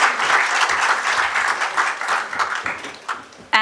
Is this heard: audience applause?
yes